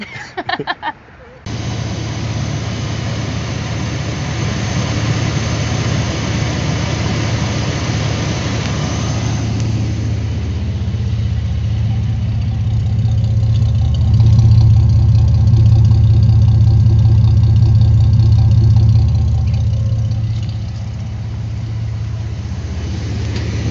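A car engine runs steadily after being repaired, a loud continuous idle with a low hum that swells for several seconds midway before settling back down.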